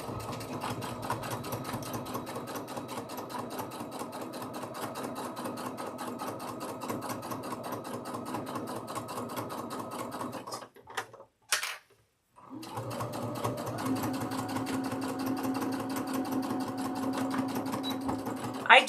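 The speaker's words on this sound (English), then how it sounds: "we're just gonna sew down the next piece" A sewing machine stitches quilt block pieces with a fast, even mechanical chatter, stops briefly for a few clicks and a short silence, then runs steadily again.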